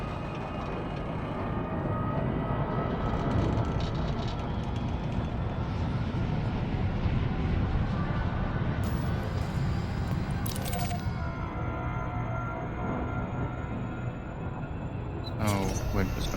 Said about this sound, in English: Warning, frameshift drive operating beyond safety limits. Frameshift drive supercharged.